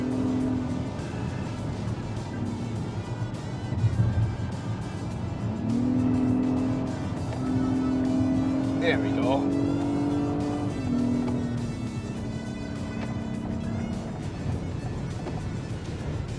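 A 2022 Acura MDX Advance Platinum Elite in sport mode pulls hard, its engine note climbing through a sustained rise and shifting tone under road and tire noise inside the cabin, with a few brief spoken words.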